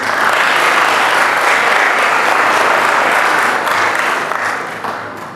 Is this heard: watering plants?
no